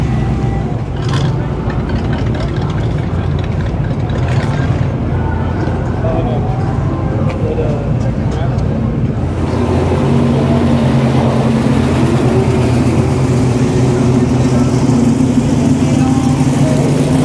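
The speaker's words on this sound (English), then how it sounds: "So that car's rolling in." A car rolls slowly into a Goodguys spring car show in Scottsdale, its engine rumbling low and steady amid crowd noise, with someone talking over it throughout.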